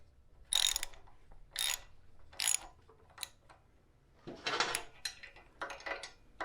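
A ratchet drives a thread insert into a stripped hole, producing several short bursts of clicking spaced about a second apart, then a denser, rougher stretch of ratcheting near the end.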